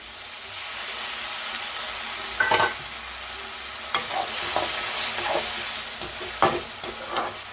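Two teaspoons of ginger garlic paste frying with chopped onions and green chillies in hot oil for a spicy chicken gravy, with a constant close sizzle and several sharp stirring scrapes spaced through it.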